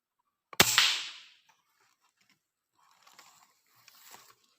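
A single sharp shot from an M4 air rifle rings out close by during a hunt in the trees, decaying quickly, followed by faint rustling and small clicks.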